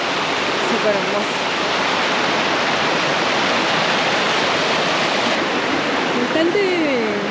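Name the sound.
river flowing beside trail near Martial Glacier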